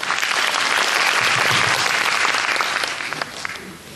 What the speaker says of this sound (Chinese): 掌声欢迎吴县长